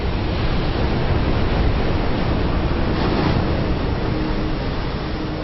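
Mid-Atlantic Ocean surf and wind, a steady, dense wash of breaking waves with wind noise, loud and continuous with no talk.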